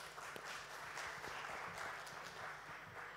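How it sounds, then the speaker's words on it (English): Audience applause after a panel discussion at a music launch event, steady dense clapping heard at a distance and fairly faint, continuing evenly throughout with no talk over it. "Big round of applause, everybody."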